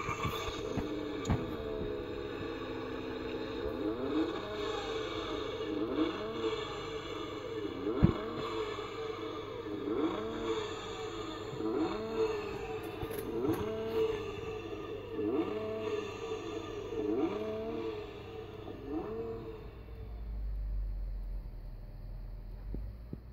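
Engine sound effect from a voice-activated Aoshima Nissan GT-R R35 scale model, a steady synthetic idle with rhythmic revving pulses over about twenty seconds, then cutting off to a low hum.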